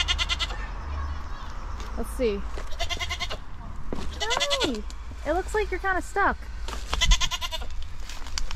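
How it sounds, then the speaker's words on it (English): Goat on an island by a boatyard with fish traps bleats repeatedly in short wavering calls, close and clear, mixed with a person talking and greeting it over outdoor background noise. "Hi, goat."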